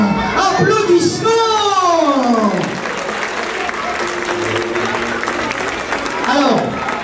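Children and an audience at a Christmas elf show clap together in an ongoing round of applause. High, excited voices ring out loudly over the clapping, and an adult speaks above it near the end.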